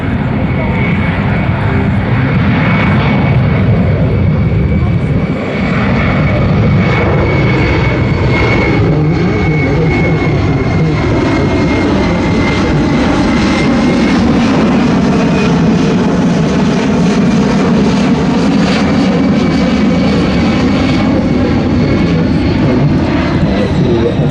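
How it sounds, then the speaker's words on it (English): A C-17 transport jet roars over an airfield at an airshow, a loud, continuous engine drone that holds for the whole stretch, while a public-address announcer talks over it. "Now the C-17 will manoeuvre for a circle over the airfield."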